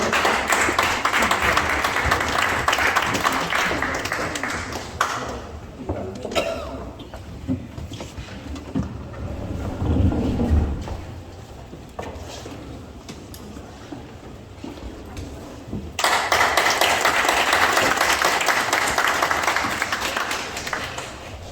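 Concert audience clapping to welcome a tenor and soprano at an opening concert, loud applause at the start that fades to quieter room noise in the middle, then swells again into full clapping near the end.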